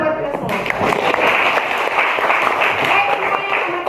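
Classroom applause with clapping for everyone at the close of a campus lecture, a dense, steady patter of many hands lasting the whole moment with voices mixed in.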